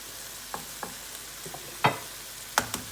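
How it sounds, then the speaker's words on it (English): An egg is cracked into a pan of sizzling spiced lamb shakshuka: a soft frying hiss with a few light taps, then two sharper cracking clicks near the end. "I'm just going to crack an egg into it"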